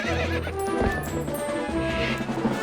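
A horse in the video game The Legend of Zelda: Twilight Princess gives a loud, close, shaky whinny while hooves clop beneath it.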